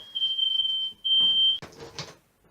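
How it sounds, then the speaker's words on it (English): A smoke alarm going off over burning food, giving a steady high-pitched electronic tone in two long beeps, followed by brief clattering noise. "When your fire alarm starts going off, I don't think there's a fire, but I might be burning food."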